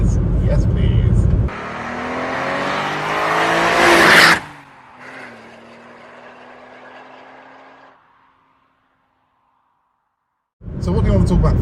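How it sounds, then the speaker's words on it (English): A loud Alfa Romeo V6 Super Lusso car engine roars and revs hard for a few seconds, then drops to a low idle hum that fades to quiet before the roar returns. "we're going to treat the viewers to full large bore Lusso V6 noises"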